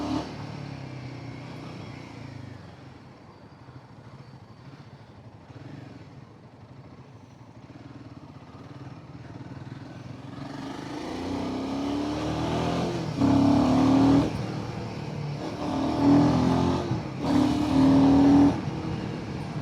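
Royal Enfield Himalayan 450 motorcycle engine under way, a steady low drone swelling into louder throttle bursts in the second half as the rider filters through traffic; no talk.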